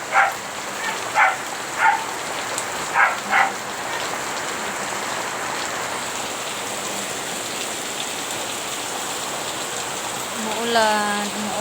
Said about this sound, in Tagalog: Gabi na umuulan.